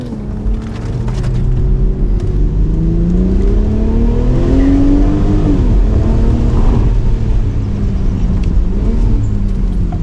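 A BMW Z4 M40i powered by the B58 engine accelerates hard. The engine note is loud and close, with a deep, steady roar that rises in pitch as the car gathers speed.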